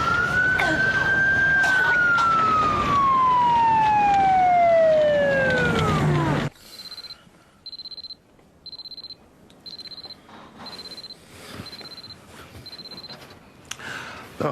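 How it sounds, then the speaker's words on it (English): Emergency vehicle siren, a loud close wail sweeping slowly downward for several seconds, then cutting to a fainter series of evenly spaced high electronic beeps. "Couldn't get the sound of those sirens out of my head."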